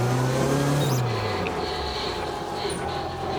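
A Toyota AE86 on its first test drive after restoration gives off a steady rubbing and scraping noise under continuous road and engine rumble, loud and close, with people talking in the cabin.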